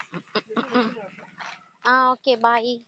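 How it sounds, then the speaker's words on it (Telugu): Puppies yelp and bark in short, bright, repeated bursts near the end of the moment, mixed with someone talking to them close by. "ఏంటి కుక్క పిల్లలు అరుస్తున్నాయి?"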